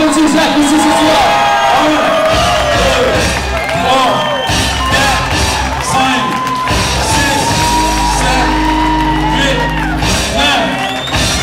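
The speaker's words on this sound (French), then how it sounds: "Est-ce que tout le monde est prêt à m'applaudir, Zach, ici ce soir?" A lively audience at a company Christmas party cheers, whoops and shouts as a man does push-ups, the crowd noise loud and continuous beneath a voice counting the reps aloud.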